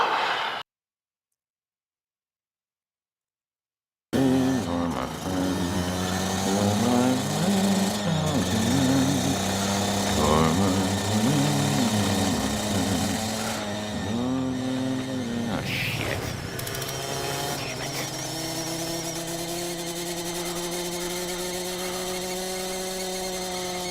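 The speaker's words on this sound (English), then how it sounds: "That is some of the worst ADR I've ever heard for a motorcycle." A dubbed motorcycle engine effect drones steadily with a rough, growling tone and shifting pitch for about twenty seconds after a brief silence, loud and up front with no speech.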